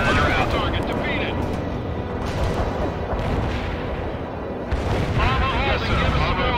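Heavy rumbling artillery barrage in World in Conflict, booming and continuous, with radio-style voice chatter over the blasts.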